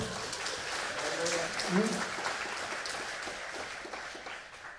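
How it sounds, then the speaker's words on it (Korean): Sustained crowd applause at a church anniversary worship service, a dense wash of clapping from many hands in a large room, with voices mixed in. "박수 한번 쳐요"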